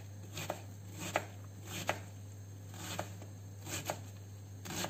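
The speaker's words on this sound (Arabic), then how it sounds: "دابا غادي نقطعوا البصله." A knife chops red onion on a board in about eight sharp, evenly spaced cuts, close and fairly quiet over a steady background hum.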